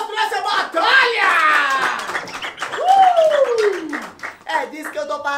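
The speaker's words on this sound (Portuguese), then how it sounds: "Palmas pra essa batalha!" An audience at a Brazilian rap battle final claps steadily in a continuous patter while a voice whoops with a long, sliding howl over the crowd.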